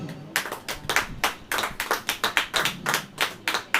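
Crisp, rhythmic hand claps ring out at a church sermon, around twenty distinct sharp claps in a steady beat with brief gaps, close and clear with no talking over them.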